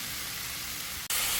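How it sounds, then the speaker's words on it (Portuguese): Shiitake mushrooms sautéing in a pan, a steady close sizzle and hiss that cuts off briefly and returns brighter and louder for the last moments. "Estou aqui refogando"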